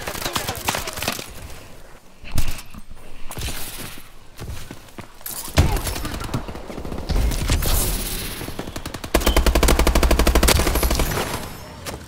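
Rapid automatic gunfire from the Xbox One shooter Call of Duty Advanced Warfare sounds loud and close, with steady bursts of shots, a heavy thump, and a long sustained stream of fire near the end.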